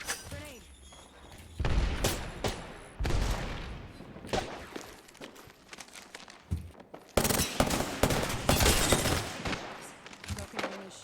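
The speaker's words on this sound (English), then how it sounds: "Grenade." A grenade blast and gunfire in the video game Apex Legends: rapid bursts of automatic fire and heavy booms come in loud waves, close and punchy, with talk mixed in between.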